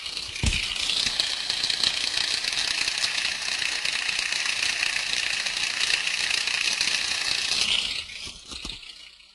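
An ultrasonic recording of a machine bearing, heterodyned to an audible steady hiss with a faint rattling texture, runs at a constant level before dropping off abruptly near the end, preceded by a brief low thump.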